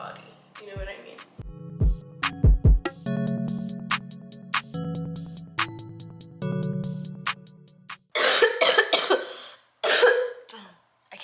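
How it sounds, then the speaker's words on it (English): A person coughs repeatedly in short fits, mixed with talking and background music. "I can't stop coughing."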